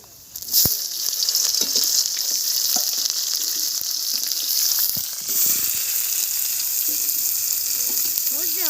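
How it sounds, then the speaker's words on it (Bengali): Onions frying in hot oil for a duck egg curry, a steady loud sizzle that starts abruptly and hisses on throughout, with scattered clinks and stirring scrapes; a voice murmurs faintly beneath. "তাড়াতাড়ি পেঁয়াজটা ভাজো"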